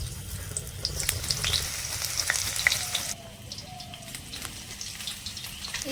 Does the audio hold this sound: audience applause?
no